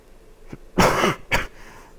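A couple of short, harsh coughs, the first louder and longer, the second brief, close up with quiet between them.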